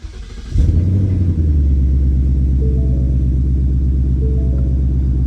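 A Ford Mustang engine catches and settles into a loud, deep rumbling idle with a couple of light revs over it, heard up close with no talking.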